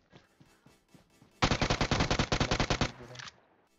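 A cheap gun in a video game fires a rapid burst of about fifteen loud shots in a tight, even rhythm, preceded by faint quieter shots and soft background sound.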